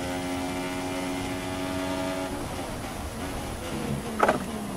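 An F1 racing car engine in the F1 2016 game, a steady high mechanical whine that drops in pitch partway through as the car slows for a corner, ending in a brief sharp knock.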